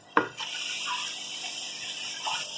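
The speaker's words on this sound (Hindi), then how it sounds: "मसालों को भूनने के लिए हम पानी इसके अंदर इस्तेमाल करेंगे" Water, saved from boiling chana dal, is poured into a pan of frying spices for dhaba-style dal: a sharp splash at the start, then a steady rushing, hissing pour at moderate volume.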